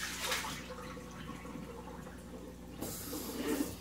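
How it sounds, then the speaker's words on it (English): Salty brine pours off chicken through a colander, a faint steady splashing and trickling of water that carries on for a few seconds with a brief louder gush near the end. "Pour the salt water off."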